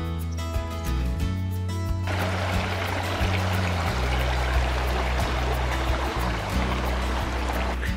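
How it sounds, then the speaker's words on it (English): A river on Vermont's Long Trail rushes steadily after the first two seconds, a broad, constant wash of flowing water with a low tonal hum underneath and no voices. "that river is a really good water source"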